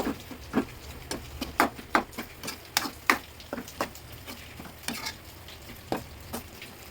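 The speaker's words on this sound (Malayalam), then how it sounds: "അരിഞ്ഞു വെച്ച രണ്ട് സവാള അത് ഇതിലോട്ട് ലാസ്റ്റ് ആഡ് ചെയ്ത് കൊടുക്കുക നല്ലോണം അങ്ങോട്ട് ഇളക്കി കൊടുക്കുക" A spatula scrapes and knocks around a pan as chopped onions (two) are stirred into hot oil for an Andhra-style dish, giving a steady series of close, crisp strokes over a soft sizzle.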